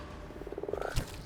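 Frog enemies in the Colony Ship video game croak in a quick rhythmic run of pulses that grows louder, ending in a sharper burst.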